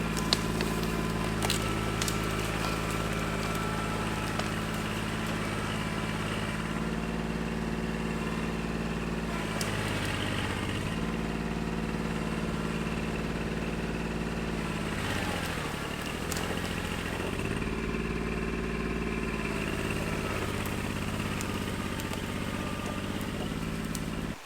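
A compact tractor's small diesel engine idles steadily for a long stretch, with a low rumbling hum that dips briefly in pitch a couple of times.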